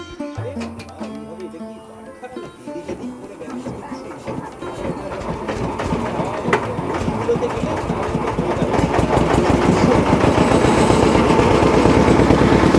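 A tourist boat's engine chugs as the boat sets off on the small Behula river near Sabuj Dweep, a rhythmic low idling throb that swells steadily louder over the clip.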